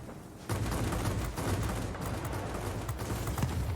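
Aircraft cannon fire from the World of Warplanes video game, aboard a Tachikawa Ki-94-I fighter: a steady, rumbling rattle of rapid shots under engine noise, fairly quiet and continuous after a brief lull.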